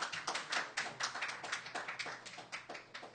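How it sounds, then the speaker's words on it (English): Applause from a small open mic audience at a coffeehouse, a fairly sparse, uneven patter of hands clapping in quick irregular bursts, close and moderately loud with no talking. "Give him a nice, warm round of applause."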